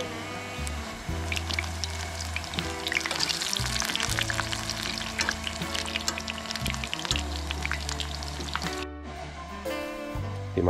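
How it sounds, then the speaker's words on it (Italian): Eggplant slices frying in a pan at home, a continuous close sizzle and crackle with low rumbling tones underneath, briefly dropping out near the end. "L'unico rumore sono le mie melanzane che friggo."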